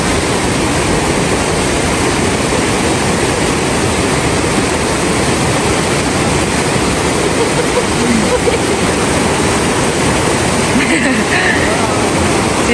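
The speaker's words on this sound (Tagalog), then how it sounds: "Ang lakas ng alon, di niya kaya." Strong river current rushing, a loud, steady, broadband roar of water that fills the whole stretch, with faint voices in the background.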